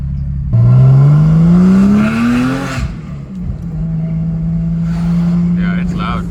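Porsche Boxster S with newly installed headers revs hard, engine pitch climbing in a loud sustained rev, then dropping back to a rumbling idle with a brief second blip, close to the car.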